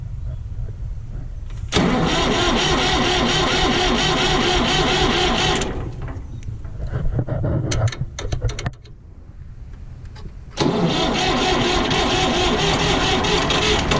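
A 1960 Massey Ferguson 35 diesel tractor cranking hard in two long bursts of loud, rhythmic starter churning, with clanks and a quieter pause between them, the engine not yet catching.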